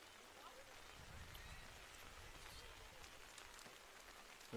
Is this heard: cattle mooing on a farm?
no